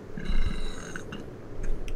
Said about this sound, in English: your burps just scared the shit out of me